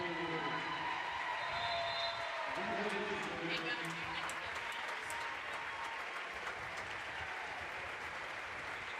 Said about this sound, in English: I've never seen people cheer this live free throw